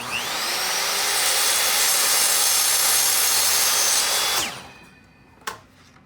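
Power saw ripping through a wooden workpiece for an inside-out mitered corner, a loud steady whine with a dense gritty texture for about four seconds that winds down, then a single sharp knock as the cut piece drops.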